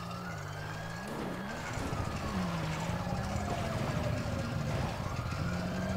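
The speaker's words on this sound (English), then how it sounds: "So many sirens." Several police sirens in a video game wail and overlap continuously, their pitch sweeping up and down, with a steady engine-like rumble underneath.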